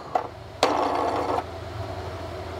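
A small split lock nut turned by hand onto a left-hand thread on an AMS Lite enclosure part, giving a short burst of close scraping and rubbing with a light tick before it, then quiet.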